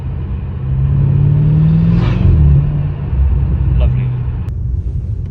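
BMW M car exhaust fitted with a Dahler valve controller, burbling with a steady low rumble that swells and fades over several seconds, with a brief spoken word partway through.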